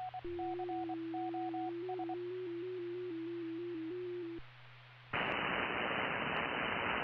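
Low-pitched radio transmission tones step between closely spaced pitches in a steady beeping pattern over a constant hum, then give way abruptly to loud broadband static hiss for the last couple of seconds.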